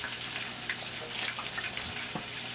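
Catfish frying in oil: a continuous soft sizzle with scattered crackles and pops, moderately loud and steady throughout.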